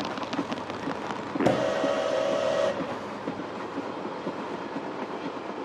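A train in the video game Paper Mario: Color Splash arrives at a station with a soft rolling clatter and a loud, sustained whistle blast lasting just over a second midway through, then settles back to a quiet rumble.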